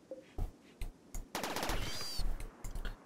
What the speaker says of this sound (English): well, gunfire really scared me for a moment.